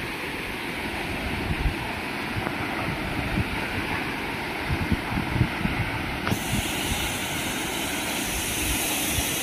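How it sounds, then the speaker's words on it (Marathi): A waterfall with milky white water and people bathing below it, a constant broad rushing roar, loud and steady throughout with faint splashes mixed in. "खूप सुंदर धबधबा आहे."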